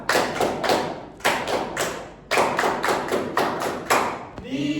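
A class of elementary schoolchildren performs a rhythmic group clapping routine, sharp sets of claps and thumps landing in short bursts with brief pauses between, loud and close, ending as a voice speaks.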